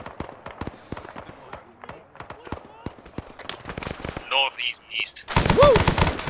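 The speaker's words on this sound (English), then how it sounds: "Shots to the west." Bursts of gunfire in Arma 3 crackle from a distance, with many sharp shots in irregular volleys and automatic fire, while a voice speaks briefly partway through.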